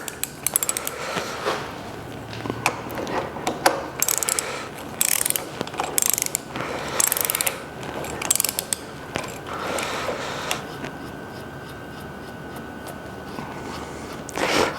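A torque wrench ratchets in short bursts of rapid clicks while tightening bolts on a Lister CS engine, close and crisp, with pauses between bursts and no talking.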